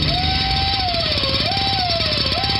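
Dentist office drill, a steady whine gliding up and down in pitch over a rough, continuous mechanical rattle, loud and close with no voices.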